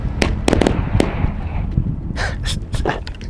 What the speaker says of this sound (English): It detonated in the air, and then 6, 7, however many bangs hit the ground.